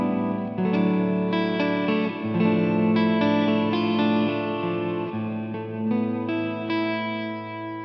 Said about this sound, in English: I have a really long, sort of more ambient sounding reverb